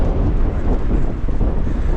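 Icy wind gusts buffet the microphone on a city walk along an embankment after a hurricane-force storm, a loud low rumbling roar that surges and dips throughout.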